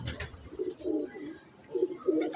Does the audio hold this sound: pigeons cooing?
yes